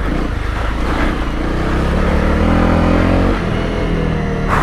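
Honda CRF250 Rally motorcycle engine droning steadily while riding, loud and close with wind buffeting, the pitch shifting as the throttle changes; no talking.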